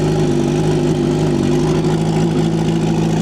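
A turbocharged Suzuki Hayabusa motorcycle engine idles on a dyno, a loud, steady, close rumble with an even low drone throughout and no talk over it.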